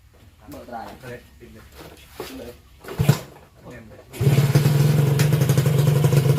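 A two-stroke motorcycle exhaust revs up loudly and holds a steady, buzzing drone after a stretch of people talking nearby with light clatter.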